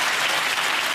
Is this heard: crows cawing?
no